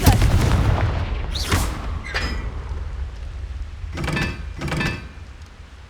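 Fiery Confringo explosion spells cast in Hogwarts Legacy on PS5 Pro, several sharp blasts going off in a short burst and then a later pair, booming over a steady low ambient rumble.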